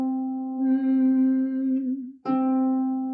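A harp string sounds middle C, a clear sustained pitched tone with rich overtones that fades, then is plucked again for a second ringing note, close and alone.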